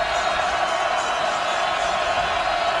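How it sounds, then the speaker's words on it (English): A huge stadium crowd of more than 82,000 at a 2011 Miami Hurricanes versus Florida State college football game gives off a steady, dense roar with no breaks. "From the 7 with deafening crowd noise"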